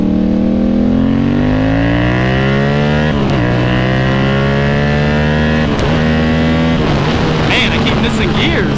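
A 2024 Yamaha R7 motorcycle pulling hard in second gear, its engine note climbing steadily in a loud, close rising whine, with brief dips at a couple of points before rising again.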